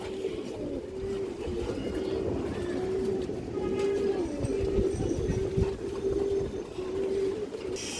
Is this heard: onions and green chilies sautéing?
no